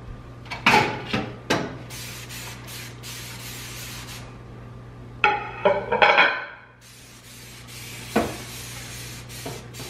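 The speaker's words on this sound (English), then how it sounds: "I'm going to spray the microwave." Cleaner sprayed onto a microwave in a modern kitchen: a few sharp spray bursts early, a quick cluster of puffs mid-way, then one last spritz, all close and alone over a steady low hum.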